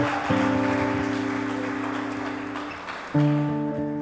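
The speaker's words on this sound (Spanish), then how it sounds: "Dele un fuerte aplauso a Cristo" A church congregation at a communion service applauds steadily under sustained organ or keyboard chords, the clapping a soft, continuous patter beneath the held notes.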